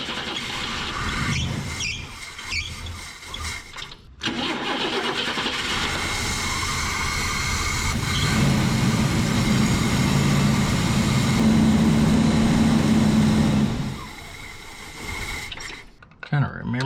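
A 1984 Chevy S-10 engine cranks and catches, then idles with a steady rough rumble. A voice talks over it at times, and the engine cuts off near the end.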